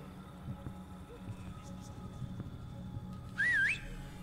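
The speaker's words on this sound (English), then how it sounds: "I wish I could whistle like that. That is a hearty whistle." A guard's loud, warbling human whistle in the stealth video game Splinter Cell: Pandora Tomorrow, rising and falling briefly near the end over low game ambience and someone talking.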